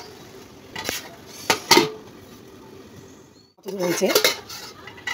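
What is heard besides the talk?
stirring ash gourd curry in a pot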